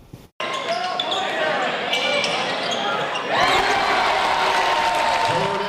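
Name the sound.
applause for a basketball head coach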